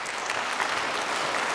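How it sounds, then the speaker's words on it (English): An audience at a church small-group session gives a round of applause, a brief burst of steady clapping from a modest crowd in an indoor sanctuary. "Let's give a round of applause for Bill there."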